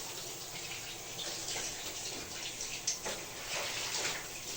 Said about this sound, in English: I just want to add more water to it